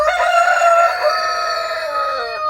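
A rooster crows once close by, a loud drawn-out cock-a-doodle-doo that trails off near the end, heard alone.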